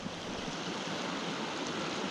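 A small, brush-overgrown creek in Nevada flows with a steady, even wash of water that stays soft and constant throughout, with no other sounds over it.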